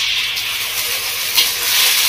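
Ginger garlic paste fries with browned onions in a pan for a village-style mint chicken curry, giving a loud, steady, close sizzle and hiss.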